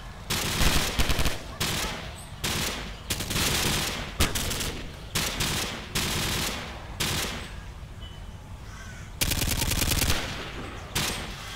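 Bursts of automatic gunfire and single shots ring out in Call of Duty, a Rio map set at Babilônia, with rapid clustered volleys separated by short gaps, loud and close throughout.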